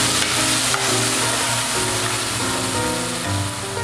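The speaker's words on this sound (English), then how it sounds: "You want to hear that sizzle, so step back." Tomatoes hit a pan of hot oil and pan-roasted garlic and sizzle loudly and steadily at close range, a dense frying hiss with faint stirring noises and no talking.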